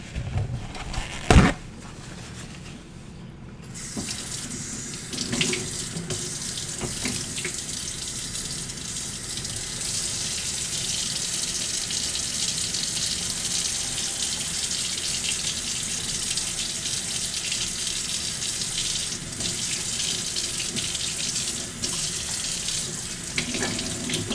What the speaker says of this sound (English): Let's wash my knife off.